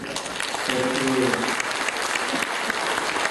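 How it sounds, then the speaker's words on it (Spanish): An assembly audience applauds in a continuous wash of many hands, with a voice rising briefly over it. "Yo creo que es digno de que le demos un aplauso, ¿no?"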